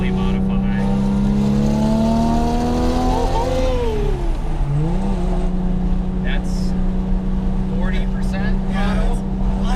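Heavily modified Porsche GT2 converted to turbo, engine idling loud and close, then revving up and dropping back before settling into a steady drone, with someone speaking briefly over it.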